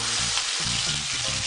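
Onion paste made from about three medium onions frying in a pan, giving a steady, dense sizzle that holds close and even throughout with no talking.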